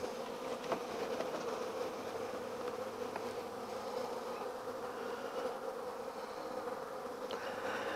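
Honeybees droning steadily around an open hive during an early spring inspection, a dense, continuous buzz close by with no talking.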